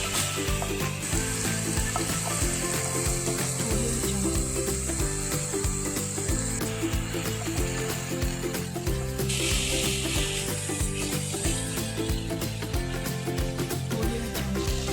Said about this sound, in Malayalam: ഉലുവയും ജീരകവും ഇട്ട് മൂപ്പിച്ച് ചെറിയ മധുരവും ചെറിയ പുളിപ്പുമുള്ള മാങ്ങ ചെറുതായി അരിഞ്ഞിട്ട് വഴറ്റി